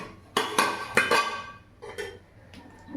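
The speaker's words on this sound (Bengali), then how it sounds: "থালাটা একটু ধুয়ে নেব।" A metal plate is handled while being rinsed and washed: a few sharp, ringing clanks close by, with a couple more scattered knocks after a short pause.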